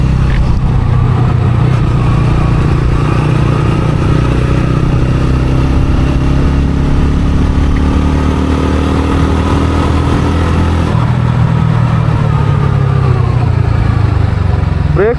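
A TVS Ronin 225 motorcycle on the move, its engine droning steadily and close up for about fifteen seconds, with a slight shift in pitch partway through and no talk.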